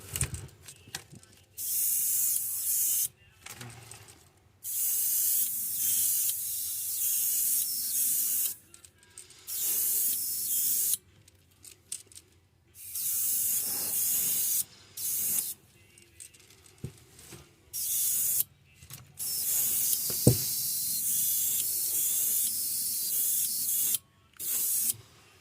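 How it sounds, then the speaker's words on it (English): An aerosol spray can hisses in repeated bursts while a fishing lure is painted in a pink belly perch pattern, each spray lasting a few seconds with short quiet gaps between, close and fairly loud. "you take and you spray this at a distance, not super close."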